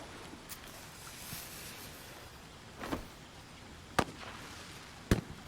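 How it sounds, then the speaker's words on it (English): Fireworks popping at a party in a fantasy role-playing game, a few sharp distinct bangs spaced about a second apart, the last ones loudest, over a quiet ambient background. "fireworks"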